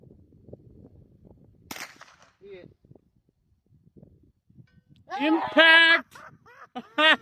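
A 9mm pistol-caliber carbine fires a single sharp, close shot at a steel target 500 yards away. Quiet stretches follow, then excited voices talk loudly.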